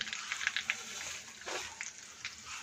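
Curry leaves fry briefly in hot oil in a pan as a street-style paneer masala fried rice is made, a soft, close sizzle and spatter with a few small pops.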